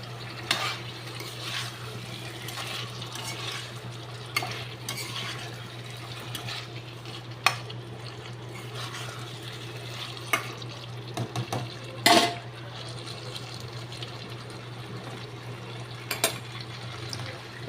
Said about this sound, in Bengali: এবার আমি মানকচুগুলোকে দিয়ে দিলাম, আলু আর মানকচুগুলোকে এর মধ্যে দিয়ে দিলাম।